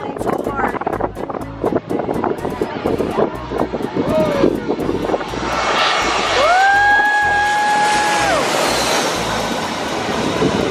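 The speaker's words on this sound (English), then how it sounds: "This is probably one of the biggest planes that" A large jet airliner landing roars loudly as it passes low overhead at Maho Beach, St. Maarten, its rising whine and rumble building and holding steady for several seconds.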